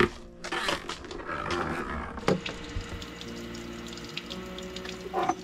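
Water drains out through a shower hose inside a newly converted camper van with a plumbing leak, a close, steady gurgling rush with occasional knocks and handling sounds.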